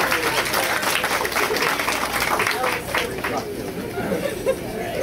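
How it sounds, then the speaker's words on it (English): Wedding guests break into applause to welcome the best man up for his toast, clapping steadily amid lively crowd chatter and voices. "how about a nice round of applause as we welcome up our best man, Samuel Lee"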